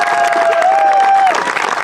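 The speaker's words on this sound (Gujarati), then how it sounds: "સૌ પ્રથમ હું વિજેતા ટીમ સેલવાસ ટીમને જોરદાર તાળીઓથી વધારતો" Brief burst of crowd applause with a few cheers for the winning Selvas team at a community cricket tournament prize ceremony, dense and close, with a steady whistle-like tone riding over the clapping.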